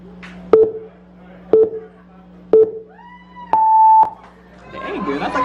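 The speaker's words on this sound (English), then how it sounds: "It's gonna be 3, 2, 1, and then 3 beeps." Three short electronic countdown beeps sound about a second apart to start a burrito eating contest, followed by a longer higher tone. A low steady hum runs underneath, and crowd noise rises at the end.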